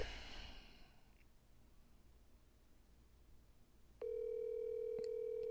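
A telephone call starts with a breath or sigh, then goes quiet before a steady, clear tone sounds, like a phone ringing on the line.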